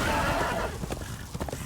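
A horse in the Darksiders 2 video game gives a loud, close neigh that trails off into snorts and soft hoof clops, with no talking.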